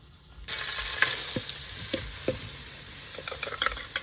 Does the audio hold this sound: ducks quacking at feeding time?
no